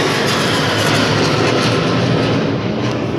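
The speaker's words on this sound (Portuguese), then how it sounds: "Desculpe pelo barulho, porque passou aqui um avião" An airplane passes overhead outdoors with a loud, sustained engine roar that fills the whole moment, steady and close with a slight swell, no speech over it.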